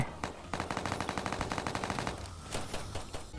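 Rapid automatic gunfire from a weak, low-damage gun in the Roblox game All of Us Are Dead rattles in a fast, even burst for about two seconds, followed by a few scattered single shots, loud and close.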